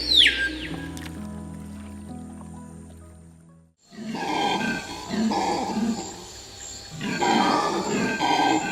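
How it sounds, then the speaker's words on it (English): Red howler monkeys call in a Guyana rainforest along the Essequibo River: a deep, rolling roar rises and falls in waves for several seconds, fairly loud, following a quieter opening stretch of sustained tones. "The distinctive sound of the screaming peahaw and the red howler monkeys resonate along the banks of the Essequibo."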